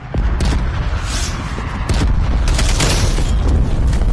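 Artillery or missile strikes in a Call of Duty video game, a dense barrage of loud booming explosions and cracks rolling continuously, close and heavy throughout.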